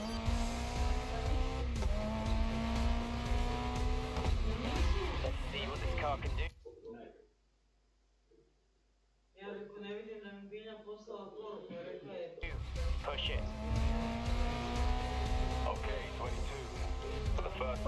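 A racing car driven in the video game GRID Legends, its engine revving and whining steadily with tire squeals, loud and continuous apart from a short break, while someone talks over it.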